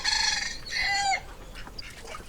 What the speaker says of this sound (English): we still have one rooster left, who may be the oldest rooster in captivity. And he crows every morning